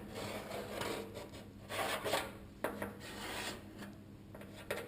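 A sharp piece of chalk scratches an outline on a panel of an HG Monaro car. The rubbing and rasping strokes come close and steady, with brief pauses between them.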